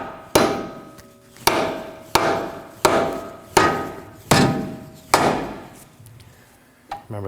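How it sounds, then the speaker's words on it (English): A rubber mallet strikes a ball joint into the steering knuckle of a 2013–2019 Nissan Sentra, giving seven loud, close, evenly spaced thuds, each fading quickly, with no voices. "Now you can hit it with a rubber mallet."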